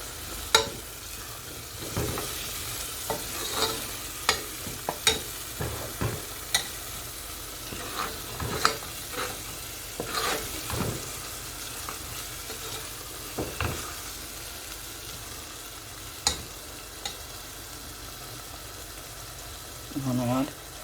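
Beef liver fries in a spice masala while a spoon stirs it, giving a continuous sizzle broken by repeated sharp scrapes and clinks of the utensil against the pot. A voice talks at times over the cooking.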